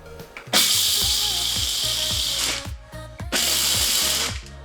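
Food processor pulsing to chop chocolate into edible soil, two loud whirring bursts with a rattling, clattering blade and a short gap between them, close up.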